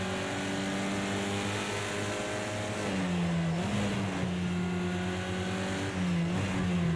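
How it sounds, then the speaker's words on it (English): Race car engine at Imola in Project Cars 2, a droning in-car note that holds steady, then rises and dips as the throttle is feathered through corners, loud and continuous with no talk. "Just feathering the throttle around these corners, not to kick out the back too much and just lose control."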